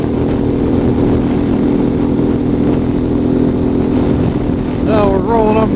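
A Harley motorcycle on a mountain road drones steadily with wind noise, then revs sharply upward in a couple of quick rising pulls near the end as it accelerates to pass a car.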